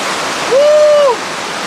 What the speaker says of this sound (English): here's a nice little waterfall.